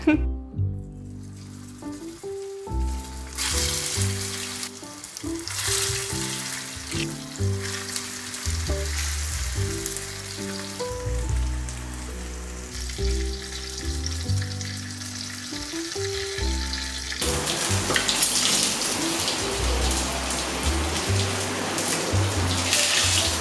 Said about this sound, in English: The Maggi pakodas are ready for frying and I am beyond excited.